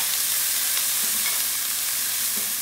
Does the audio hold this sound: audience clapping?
no